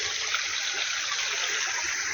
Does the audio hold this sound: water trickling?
yes